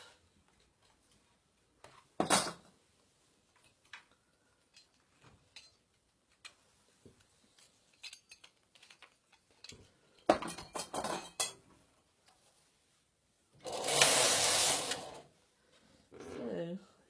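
Metal weights are lifted off a Passap Duomatic 80 knitting machine, giving sharp scattered clanks and clicks with quiet gaps between them, plus a longer burst of rattling near the end.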